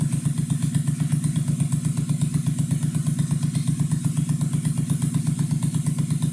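An older motorcycle idles after adjustment of its idle and air screws, with a steady, close, evenly pulsing engine beat and a light mechanical clatter throughout and no talk.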